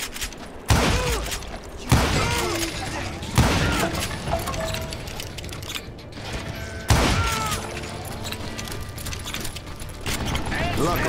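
A Gatling gun in the Wild West shooter Call of Juarez: Gunslinger unleashes loud, sustained bursts with mechanical clatter, interrupted by sharp impacts, while a voice talks over parts of it.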